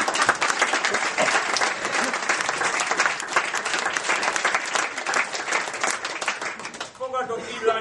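Audience in a Hungarian cabaret comedy show breaking into loud, sustained applause, dense clapping continuing steadily throughout before thinning out at the very end.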